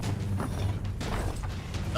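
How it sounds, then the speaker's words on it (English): A heavy vault door slowly closing in the pirate game Sea of Thieves, a continuous low grinding and creaking of stone mechanisms, close and sustained throughout. "The door's closing slowly."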